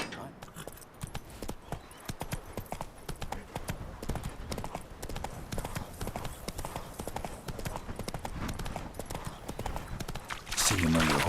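Rhythmic clip-clop of horse hooves trotting in the video game The Witcher 3: Hearts of Stone, steady and close, ending in a brief burst of louder sound; no speech audible.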